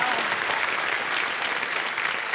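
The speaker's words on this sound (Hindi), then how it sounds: "सर कमाल है, वाह, ताली बज जाए इनके लिए।" A studio audience on a televised quiz show breaks into sustained, dense applause, steady and loud throughout with no break.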